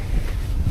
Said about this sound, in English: apparently it's pretty windy